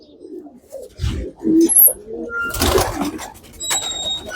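A female pigeon coos in short low bursts close by, with a few faint chirps and brief rustling between the calls.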